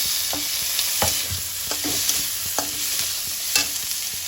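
Tomato fries in a pan with chopped onion, green chili and neem leaves, giving a steady, bright sizzle broken by regular scraping strokes from a utensil as it is stirred, close and with no voices.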